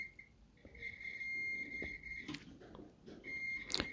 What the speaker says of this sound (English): making a beep sound to show that there is continuity